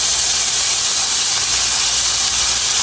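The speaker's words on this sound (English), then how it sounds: "I'm going to put my corn in here. That nice sizzle, exactly what I want" Steady, loud sizzling hiss of corn frying in a hot pan, continuous with no pauses and no voices.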